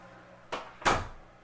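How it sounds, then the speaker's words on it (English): A room door is shut in two quick knocks, a light bump followed by a louder latching thud, close by in a quiet room. "So let me shut the door"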